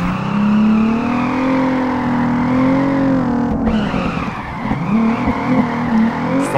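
Tires squeal loudly and continuously as a car drifts in the Peak Angle online drifting game, following a BRZ/GT86 in tandem, with a droning engine under the screech and a brief shift midway before the squeal resumes.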